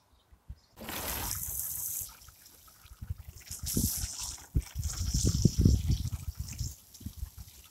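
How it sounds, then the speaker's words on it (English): Water poured from a can onto plants at an allotment garden, a steady splashing gush followed by uneven trickles and spatters on soil and leaves, close by and moderately loud. "Now to water them."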